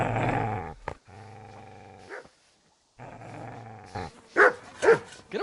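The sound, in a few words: dog growling and barking, from video game Kingdom Come Deliverance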